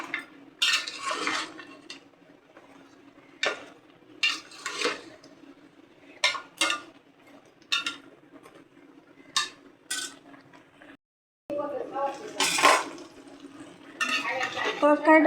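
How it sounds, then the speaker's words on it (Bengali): A spoon scrapes and clanks against a pan of vegetable curry with pointed gourd, potato, spiny gourd, drumstick stems and jackfruit seeds. The stirring comes in close, irregular bursts with brief quiet gaps. "তরকারিটা কষাইতেছি ভালো করে, নরম হয়ে গেছে, পটলটা নরম হয়ে গেছে আগে।"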